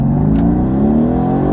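Mercedes AMG GTR with an Fi exhaust system revving steadily, engine note climbing in pitch over a loud, continuous close-up rumble, with one brief higher burble partway through.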